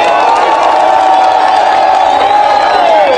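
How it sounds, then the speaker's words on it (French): A crowd at a public address in South Kivu, Democratic Republic of the Congo, cheering and whooping loudly in a sustained roar. Voices and shouts blend together continuously, with a rising tonal whistle or ululation running through it. "Nous lui allons applaudir."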